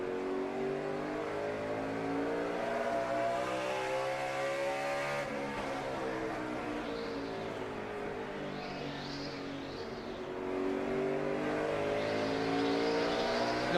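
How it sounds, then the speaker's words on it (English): Onboard view of Tony Stewart's No. 20 NASCAR stock car racing at night in the 2008 Crown Royal 400 at Richmond, its V8 engine roaring loud and steady with rising and falling revs through gear changes and corners. "We're riding with Tony Stewart in the 20."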